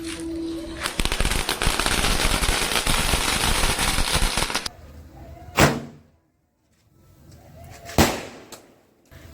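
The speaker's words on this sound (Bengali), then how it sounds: "তুমি কি নতুন বছরকে বাজি ফুটিয়ে স্বাগত জানাচ্ছ?" New Year firecrackers burst in a dense, crackling volley of rapid bangs for several seconds. Two loud single blasts follow, separated by quiet, with no talking in between.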